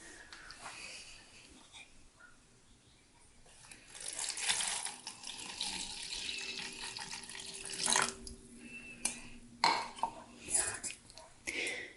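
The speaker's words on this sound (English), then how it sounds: "It seemed to mix in pretty quickly, just as I was pouring the water in." Water is poured from a tap into a hair care mixture, a faint, splashy running flow that builds and then breaks into irregular gurgles and splashes, with a few louder bursts near the end.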